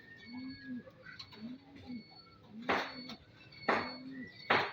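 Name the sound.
racing pigeons cooing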